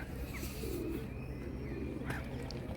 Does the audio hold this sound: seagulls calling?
yes